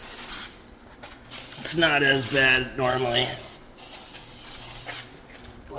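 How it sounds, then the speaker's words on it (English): Oven cleaner sprayed inside an oven, bursts of hissing aerosol before and after a short spoken remark, the spray loud and close with pauses between squirts. "Next, we're gonna get our spray and go ahead and spray this down."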